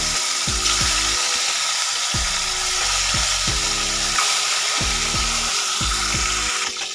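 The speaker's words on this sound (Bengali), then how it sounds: "এবার দ্বিতীয় মাছগুলোকেও আমি ভেজে নিচ্ছি কীভাবে" Fish sizzling as it fries in oil in a pan, a steady loud crackle with clattering stirring knocks from a utensil at intervals, close by, with no talk.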